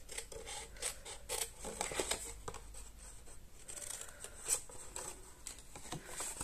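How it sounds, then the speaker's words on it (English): Scissors snip away paper corners while making a Christmas tree decoration from Stampin' Up products, giving close, quiet rustling cuts and rubbing of paper with no talk. "so we're going to cut those away"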